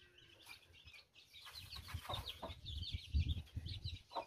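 Chickens and chicks cluck and peep around a small backyard flock, with scattered calls, some wing flapping and rustling, fairly close and without speech.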